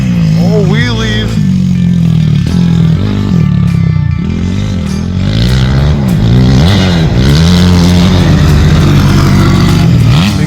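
A bored-out 2004 Honda 250 dirt bike engine revs loudly and repeatedly up and down close by, its buzzing pitch rising and falling throughout with voices underneath.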